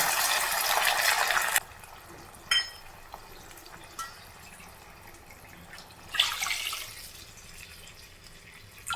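Water for rava upma is poured from a cup into a pan in a few separate splashing bursts, the first long and the later ones shorter, with quiet drips and pauses in between.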